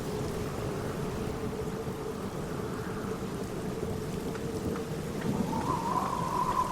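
Steady rain pours down in a gothic mystery game scene, a constant close hiss of drops with a low rolling rumble of thunder running underneath and swelling toward the end.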